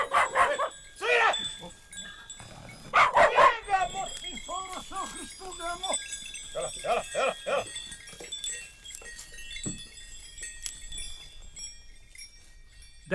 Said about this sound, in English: listening to a herd dog's hostility overlapped by shepherd Mitsos cursing the dog's kin back to the beginnings of antiquity